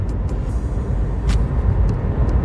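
A car drives past outside, a steady low road rumble rising slightly as it passes, with a few faint high clicks above it and no speech.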